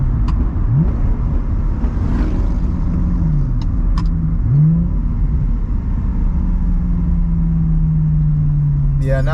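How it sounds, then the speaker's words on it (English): A car engine on Pacific Coast Highway revs and drops through downshifts, its pitch sliding up and down several times beneath a constant close road rumble, with people talking inside the cabin. "now I'm getting the hang of these downshifts"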